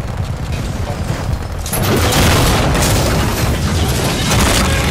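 Gunfire in the video game Titanfall 2 during a multiplayer killing spree: dense, loud rapid shooting and booming impacts that swell abruptly partway through and continue as a heavy sustained roar.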